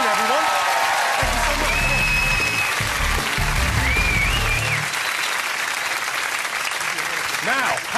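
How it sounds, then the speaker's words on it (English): A television studio audience at a comedy quiz show applauds loudly and continuously, a full dense clapping sound, with a voice speaking and some music over the top. "Round of applause"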